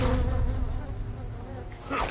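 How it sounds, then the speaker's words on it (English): Swarming death hornets buzz in the video game Metal Gear Solid Delta: Snake Eater, a dense, continuous insect drone held close and loud for about two seconds with no speech. "Bees! They're actually hornets. Yeah, those are death hornets."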